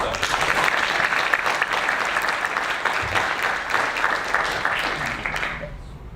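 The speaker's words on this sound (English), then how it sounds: "Another round of applause, please." Audience applause at a technology innovation awards event: dense, sustained clapping from a crowd that holds steady for several seconds and then trails off at the end.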